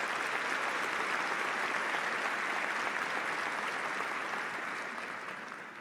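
A large audience at a university summer commencement applauds, dense sustained clapping filling the hall and tapering slightly toward the end.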